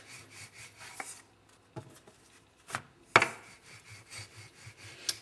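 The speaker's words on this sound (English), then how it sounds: "just flattening it out" Paneer paratha dough being rolled flat with a rolling pin, heard as soft repeated rubbing and scraping strokes, with a few sharper knocks and taps of wood on the board, close and fairly quiet.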